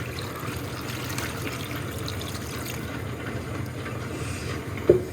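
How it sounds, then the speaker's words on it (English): Tumbled, polished dendritic opal rocks are rinsed under running water, giving a steady low splashing trickle at moderate level, with one brief knock near the end. "Give these a quick rinse"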